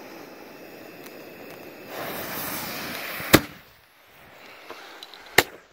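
A small 9-shot fish firework cake fires sharp, loud cracking bursts, two strong reports with a few fainter pops between them, over a hissing, rumbling outdoor background.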